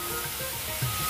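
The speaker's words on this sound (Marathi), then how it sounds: "परतून घ्यायचं छान तेलामध्ये" Green chili paste sautéing in oil gives a brief, even sizzle that stays close and fairly soft, with a faint bump near the end.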